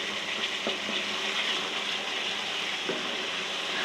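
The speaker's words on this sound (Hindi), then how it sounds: "तकरीबन 5 मिनट मैं मसाले को भून लेती हूँ" Masala spices sauté in a pan with water added now and then, a steady close sizzle and hiss of frying with occasional faint clinks of a stirring spoon, no voices.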